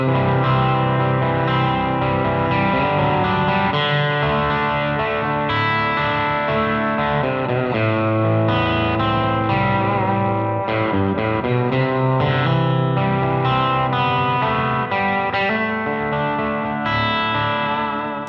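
Fender American Professional Classic Stratocaster electric guitar played through effects, a dense, continuous chord-and-lead performance with distortion, chorus and echo, loud and sustained for the whole stretch with no talking.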